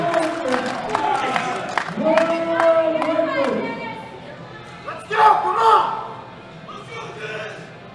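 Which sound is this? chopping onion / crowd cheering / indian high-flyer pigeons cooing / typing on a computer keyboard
crowd cheering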